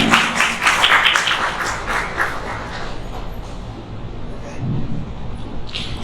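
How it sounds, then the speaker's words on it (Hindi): Applause welcoming guests at an arts festival event, a dense burst of clapping from an audience that swells at first and then thins out over several seconds, fairly loud and close. "एक बार जोरदार तालियों से स्वागत।"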